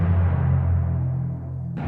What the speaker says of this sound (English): So what you're hearing here is a highly processed timpani playing